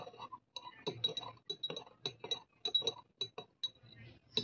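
A metal spoon stirring castor oil hair oil inside a bottle, making a quick series of bright, close clinks and taps against the glass at an irregular rhythm.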